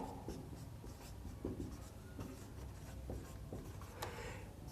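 Pen scratching on paper as a matrix is written out by hand for a class nine maths problem, a quiet close series of short strokes and scrapes in an irregular rhythm.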